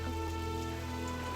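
Heavy rain falling at night, a steady dense hiss of drops on surfaces with a low constant rumble underneath, continuous and even throughout without any voices.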